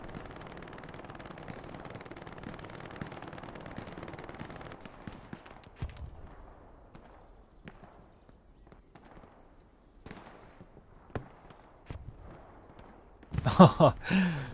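Scattered rifle and machine-gun shots in a competitive Hell Let Loose match, distant sporadic cracks under ongoing commentary, ending in a louder, closer burst of rapid fire.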